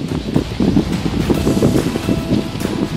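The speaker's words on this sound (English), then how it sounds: "Lots and lots of wind." Strong wind buffets the microphone while biking on the Coromandel Peninsula, a loud, continuous low roar and rumble with no voices.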